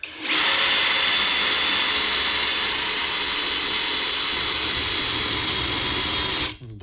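A power drill bores loudly through square metal pipe, a steady high grinding whine that holds for about six seconds before cutting off.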